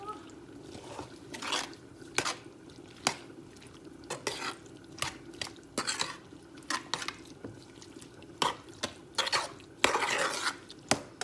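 A spoon stirs a mixture for a Southern-style Sunday dinner in a pot, scraping and clinking against the sides in irregular bursts, close and moderately loud, with no voices over it.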